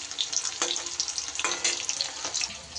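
Paneer cubes sizzle as they fry in a pan, with a steady hiss broken by a few sharp crackles and clinks as the pieces are turned.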